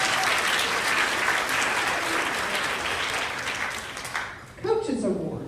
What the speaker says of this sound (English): Give George a round of applause